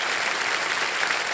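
Studio audience applause on the Kaun Banega Crorepati game show set, a continuous even wash of many hands clapping, moderately loud and sustained from start to finish without speech.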